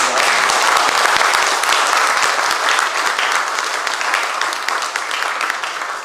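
A church congregation at an anniversary and ordination service gives the pastor and his wife a round of applause, loud, dense, continuous clapping filling the space from start to finish.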